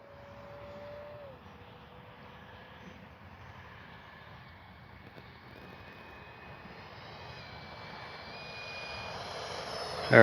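A Freewing 70mm Vulcan RC jet makes a steady ducted-fan whine, passing low with gear and landing flaps down and growing gradually louder toward the end, heard alone in open air.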